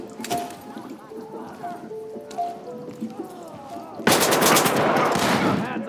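Gunfire in the tactical shooter Ready or Not: a sharp shot near the start, then a dense burst of rapid automatic fire in the final two seconds, with radio chatter and speech earlier.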